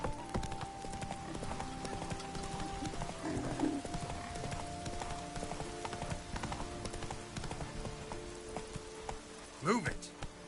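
Hooves beat in a steady clip-clop as a horse moves in The Witcher 3, with an occasional whinny and light patter in the background. The sound is moderately close and continuous throughout.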